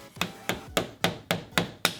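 Seven sharp, evenly spaced hammer blows strike a hard surface up close, each with a short resonant ring, steady and alone.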